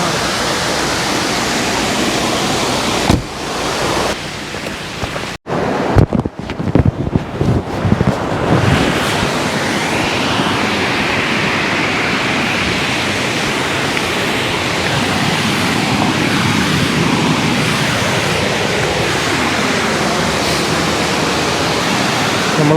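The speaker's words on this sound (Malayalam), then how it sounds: "നമ്മളങ്ങനെ 7:30 വെള്ളച്ചാട്ടത്തിലാണ് ഉള്ളത്." The 7:30 waterfall in Kannur roars continuously as a loud, dense rush of falling water, nearby and steady. Wind buffets the microphone around the fifth to ninth seconds.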